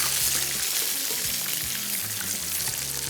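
Fish pieces deep frying in hot oil for a po'boy sandwich, a steady broadband sizzle and crackle that holds at an even, fairly loud level throughout, with low bubbling underneath and no voices.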